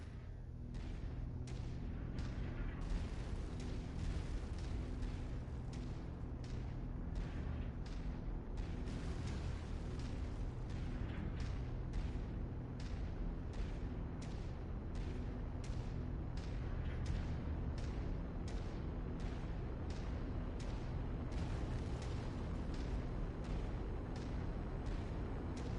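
Ammo warehouses blow up in MechWarrior 5, giving a long, steady roaring rumble broken by many rapid, repeated blasts and bursts that keep going throughout.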